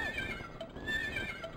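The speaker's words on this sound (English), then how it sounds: "I love that they make horsey noises." Horse-like creature in the Rayman 2 video game giving a couple of high, wavering whinnies over soft game background noise.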